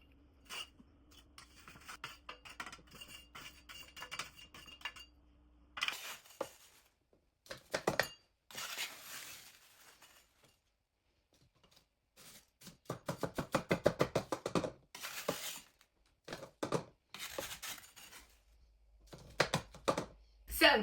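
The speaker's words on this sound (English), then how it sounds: "So all that I'm going to do is scrape it off of the trays and put it into here." Freeze-dried milk is scraped off trays into a container, making irregular bursts of dry scratching and tapping, separated by quiet gaps, mostly close up and with no voice.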